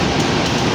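The Ranggajati passenger train runs on Indonesian rails, a loud, dense rushing roar heard up close in a very brief burst with no talking.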